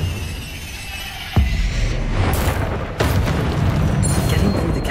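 A Confringo explosion spell in Hogwarts Legacy, heard as sharp booming blasts, one sudden hit followed by further rumbling impacts over a dense, loud game soundscape.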